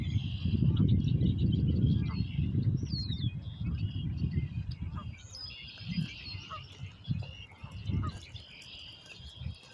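Many birds chirp and call together from a tree in Wisconsin, a busy, continuous chorus of high tweets over loud low rumble that fades somewhat halfway through, with insect-like trills mixed in.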